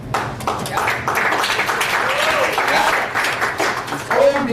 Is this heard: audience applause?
yes